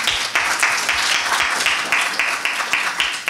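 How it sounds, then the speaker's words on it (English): Applause from an audience at a community event in the Groton Public Library, a patchy, modest round of clapping with bursts of claps rising and falling, fairly close and steady for a few seconds. "Let's give them a round of applause, please"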